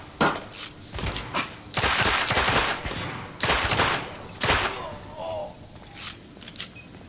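Bursts of gunfire in The Order: 1886, played on PS5: repeated loud volleys and rapid shots in uneven clusters, some close and sharp, with brief gaps and a few shouted voices between them.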